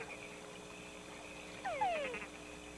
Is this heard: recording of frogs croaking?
yes